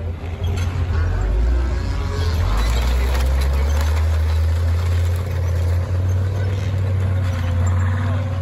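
A Centurion medium tank's engine runs with a deep, steady rumble, loud and continuous throughout with no pauses.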